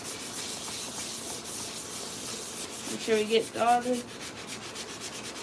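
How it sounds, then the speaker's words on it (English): Hand sanding of a 3D-printed PLA Iron Man neck piece, a steady close scratchy rubbing that runs throughout, with a brief voice speaking partway through. "Just nice sanding."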